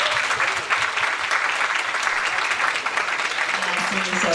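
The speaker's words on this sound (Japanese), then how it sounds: "皆さん拍手で。" Audience applause greets two members called onstage for a talk event, a dense steady wash of clapping that fills the clip from start to finish, with faint voices mixed in beneath it.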